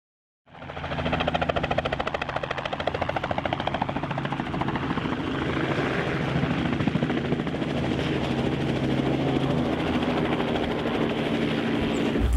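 A helicopter flies close overhead during anti-poaching training in the African bush, with a loud, steady rotor thump and engine roar that starts abruptly and holds for the whole stretch, no voices over it.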